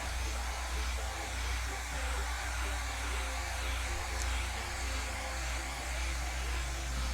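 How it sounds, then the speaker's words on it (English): A hair dryer blows steadily on a painting, a constant loud whirring hum with a low electrical drone that runs unbroken throughout. "let's blow dry this and draw in where our branches are going to be"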